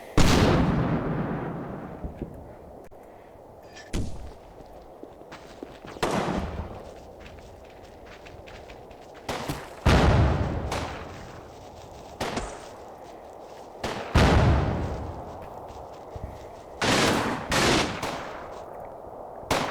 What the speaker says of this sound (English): Let's see if that HE fire will drive them out of there.